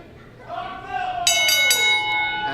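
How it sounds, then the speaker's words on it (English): A bell rings several times to start a match at a live wrestling event in a music hall, clear bright strikes ringing out over a crowd and a commentator's voice. "And the bell rings."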